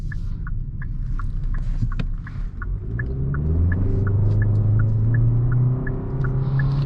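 A 2021 Hyundai Sonata Limited engine accelerates, its low rumble swelling and climbing in pitch over several seconds, with a steady light ticking repeating above it throughout.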